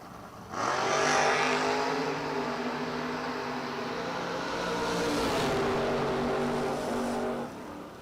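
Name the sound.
drag racing cars launching down the strip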